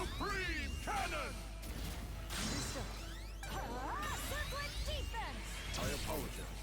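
The Supreme Cannon attack in the Digimon Time Stranger video game fires off with loud whooshing sweeps, crashing impacts and rising synthetic tones layered over game music, while a voice speaks over part of it.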